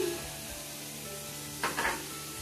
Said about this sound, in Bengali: দিয়ে দিচ্ছি ক্যাপসিকাম, আর পেঁয়াজটাও দিয়ে দিলাম।